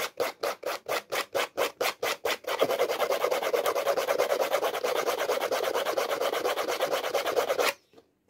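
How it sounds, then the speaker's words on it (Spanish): Hand sanding of a glued PVC repair with sandpaper: a dozen slow separate rasping strokes, then fast continuous scrubbing for about five seconds, close and loud before stopping abruptly. "Vamos a lijar esto por ahora."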